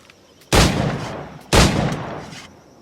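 Two heavy pistol shots from the pirate game Assassin's Creed 4: Black Flag, each a loud blast with a long decaying roar, spaced about a second apart, alone with no voices.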